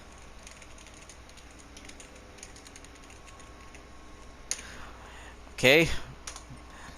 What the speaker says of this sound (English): Message sent, so I could probably have to type it out.